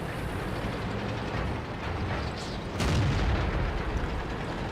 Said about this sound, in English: Quick shot on the artillery